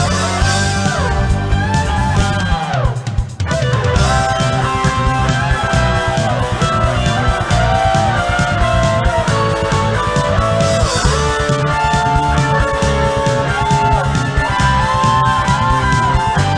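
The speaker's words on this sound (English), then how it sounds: "The US version has an instrumental track that sounds like this." Instrumental ending theme from the US version of the Resident Evil video game, a full loud music track with steady drums and melodic lines, playing continuously with no voices.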